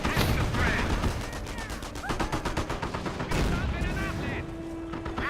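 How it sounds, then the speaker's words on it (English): Rapid, dense machine-gun bursts pound a machine gun bunker in the World War II strategy game Company of Heroes 1, loud and continuous with a busy battle backdrop. "Put some rounds there into the machine gun bunker."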